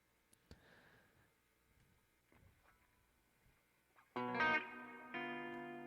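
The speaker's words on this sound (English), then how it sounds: "the dynamic hall reverb" A Line 6 Helix dynamic hall reverb on electric guitar: a loud, sustained chord rings out with a lush, spacious tail, then a second chord follows, after quieter picking and handling noise.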